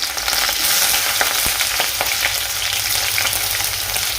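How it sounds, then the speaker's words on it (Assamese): Onions sizzle and fry in hot mustard oil in a wok, with a continuous loud crackle and a few sharp ticks as they are stirred, and no voices. "এতিয়া মই ইয়াতে পিঁয়াজটো ঢালি দিওঁ।"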